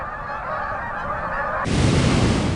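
Young geese on their first long migration honk loudly and continuously in a dense, near flock, the calls swelling louder partway through.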